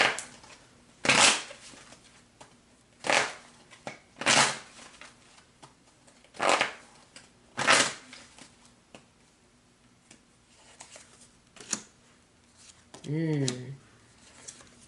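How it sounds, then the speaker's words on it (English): Tarot cards are shuffled in several separate bursts of riffling and slapping, close and moderately loud, with quiet gaps between, and a short voiced sound near the end. "Cards didn't want to shuffle."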